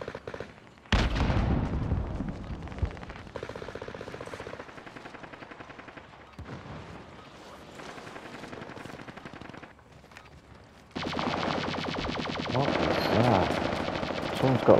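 Bursts of rapid laser gun fire from the Call of Duty: Modern Warfare video game, loud and dense, with a quieter stretch mid-way before heavy sustained firing returns near the end.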